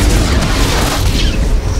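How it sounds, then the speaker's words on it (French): Heavy booming artillery fire striking a starship in the space-combat game SWTOR, a dense continuous rumble of deep blasts and explosions, loud and close, with no voices over it. "L'artillerie tire sur votre vaisseau."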